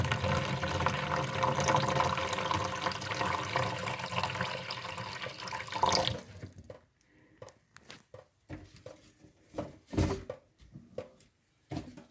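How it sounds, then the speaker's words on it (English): Water pours steadily into a plant saucer under a Snow White waffle plant pot, a continuous splashing rush that stops halfway through and leaves scattered soft drips and knocks. "pour the water over into it"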